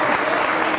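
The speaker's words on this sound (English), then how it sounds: "a round of applause for this magnificent..." A short, dense burst of audience applause at a live bird show, steady clapping filling the moment with no voice over it.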